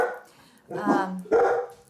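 One of two pet dogs gives two loud, close barks about half a second apart after a quiet moment, heard clearly without talk over them.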